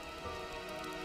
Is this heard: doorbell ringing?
no